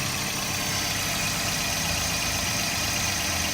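A car engine idles steadily with a low, even rumble, close and constant throughout with no voices.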